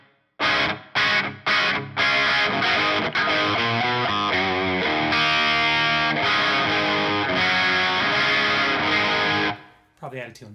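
Electric guitar played through a Line 6 Helix processor with a room reverb, strummed chords and ringing notes, loud and sustained, then a brief tail after a pause.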